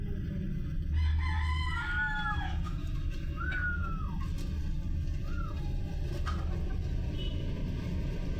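A rooster crows several times in a row, with drawn-out calls rising and falling, while chickens cluck nearby over a steady outdoor background hum.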